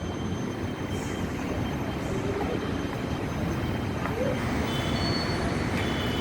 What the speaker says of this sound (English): The Hyderabad metro.